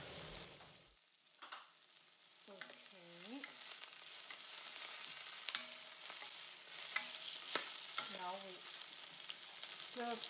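Sugar stir-fried in a wok for double cooked pork belly sizzles steadily and close, with the spatula scraping and stirring in repeated bursts throughout.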